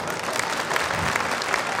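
Crowd applauding at a village ceremony for a Vedic school consecration festival, a dense, steady burst of clapping for about two seconds.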